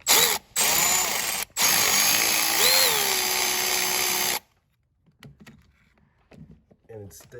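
An electric power tool with a socket runs steadily for about four seconds, briefly stopping twice, while removing a bolt from the rear coolant flange of a 2.0 TFSI Audi B8; quiet clicks and handling sounds follow.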